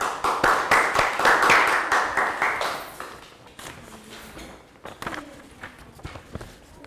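A class of young schoolchildren applauding, loud brisk clapping from a small group for about three seconds, then fading into scattered faint claps and taps in a classroom.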